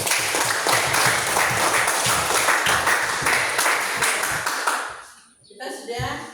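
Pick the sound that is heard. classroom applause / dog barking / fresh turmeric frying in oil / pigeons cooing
classroom applause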